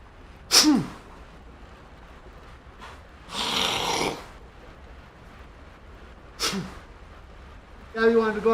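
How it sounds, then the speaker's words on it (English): Several separate sneezes from an allergy sufferer, sharp and close, spaced a few seconds apart, with a brief breathy sound between them and a short voice-like burst at the end. "I'm definitely sneezing a bunch."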